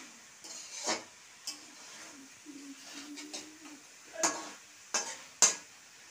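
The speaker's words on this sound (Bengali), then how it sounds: "এখন আমি এই যে ভাজা মাছগুলো দিয়ে দেব। দিয়ে একটু এই মশলার সঙ্গে একটু" A spoon scrapes and clinks in a pan as fried tilapia pieces are stirred into cooked masala, a series of faint, sparse knocks and scrapes against a quiet background.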